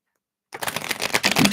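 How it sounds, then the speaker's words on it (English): Tarot cards being shuffled make a quick burst of close, dense riffling clicks that starts abruptly after a brief silence and keeps going for about a second. "let me give these a shuffle and we'll take a look at that."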